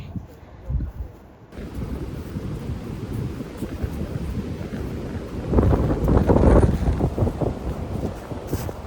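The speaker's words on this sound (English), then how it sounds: "Wind just doesn't want to let up." Strong wind buffets the microphone outdoors on the Appalachian Trail, a low roaring rumble that gusts harder midway, with no voices.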